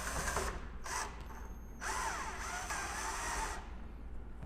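A power drill drives the bottom screw into a door knob during repair, with steady whirring bursts that ease off for a moment and then resume, close and loud.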